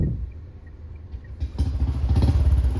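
New motorcycle starting: quiet at first, then after a clunk the engine catches and settles into a loud, steady idle with a rough, pulsing rumble, close by.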